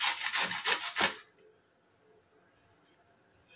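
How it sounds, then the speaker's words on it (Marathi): Bitter melon grated on a hand grater: four quick rhythmic scraping strokes, close and crisp, then the scraping stops and only faint room noise remains. "कारले आपण किसणीच्या मदतीने किसून घेऊया"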